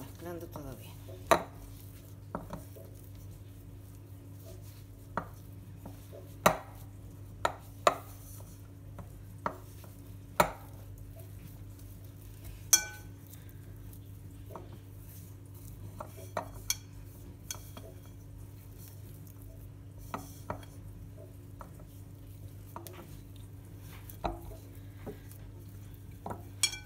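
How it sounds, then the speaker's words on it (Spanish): Gluten-free cheese bread dough is mixed in a bowl, giving sparse, irregular sharp knocks and scrapes of a utensil against the bowl over a low steady hum, close and fairly quiet. "Y vamos mezclando todo bien."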